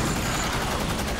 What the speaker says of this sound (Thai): มีลูเตอร์มาครับจัดการจะยิงมัน